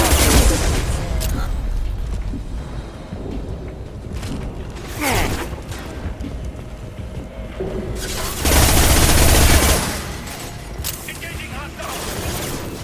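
Mass Effect Legendary Edition firefight: bursts of rapid gunfire and heavy impacts crackle amid combat effects, with loud volleys near the end and in-game voices talking over the battle.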